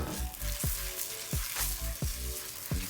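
Cape hake frying in browning butter and oil in a pan, a steady close sizzle with several regular clattering knocks from the pan or utensil, no talking.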